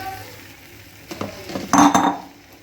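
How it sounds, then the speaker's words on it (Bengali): Fried ivy gourd is tipped into a frying spice paste and stirred. A soft sizzle gives way to a short burst of scraping and clinking from the spoon against the pan. "এবারে আমি দিয়ে দিব ভেজে রাখা কুঁদরি"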